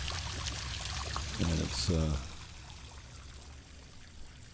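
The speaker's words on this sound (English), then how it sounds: "you'd be surprised how this trickling sound of water kind of carries through the complex" A small waterfall in a Sosua condo complex, Dominican Republic, trickles steadily in the background, and a voice speaks briefly over it.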